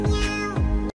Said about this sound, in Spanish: Aquí está el miau